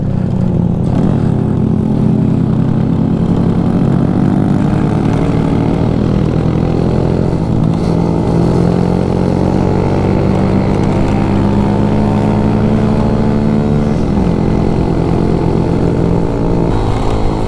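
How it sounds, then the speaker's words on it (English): A small motorcycle repowered with a four-stroke engine rides along close by on a stony track, its buzzing engine note loud and continuous with shifting pitch as it speeds up and eases off. "you can just watch and see how this bike rides"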